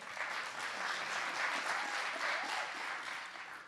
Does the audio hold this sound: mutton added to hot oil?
no